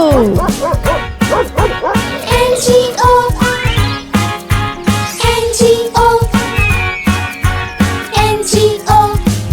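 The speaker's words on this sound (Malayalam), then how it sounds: "ഒരു നായ ഉണ്ടായിരുന്നു കർഷകന്, പേര് അതിന്റെ ബിങ്കോ." Cartoon dog barks and yips punctuate a Malayalam nursery rhyme about a farmer's dog, repeating through a bouncy sung backing track with a steady beat and occasional jingling.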